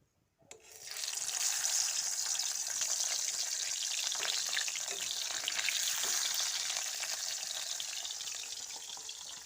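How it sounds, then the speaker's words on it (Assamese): Fish fried in hot oil for an Assamese fish and taro curry, a loud, steady sizzle that bursts in abruptly and continues without pause, close by and alone. "ইয়াত তেলো গৰম হৈ গৈছে আৰু ইয়াত দি দিম এতিয়া মাছ ফ্ৰাই কৰিম"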